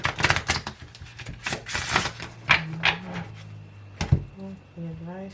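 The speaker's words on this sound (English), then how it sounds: "One more shuffle." Tarot cards are shuffled in fast, crisp riffling bursts of papery flutter close up. A voice speaks in between the bursts.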